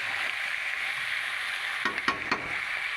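Chicken frying in a pan, a steady hiss of sizzling oil filling the whole stretch, with a few sharper scrapes and clatters of stirring near the end.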